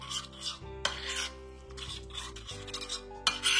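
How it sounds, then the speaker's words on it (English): Spoon stirring white chocolate melting in warm Baileys, scraping and rubbing strokes in an uneven rhythm, close and fairly quiet with no talking. "just keep stirring and it'll become nice"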